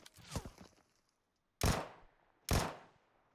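Gunfire in PUBG Mobile comes in three sharp bursts: a short rattle at the start, then two loud, separate shots after a pause, with no voices.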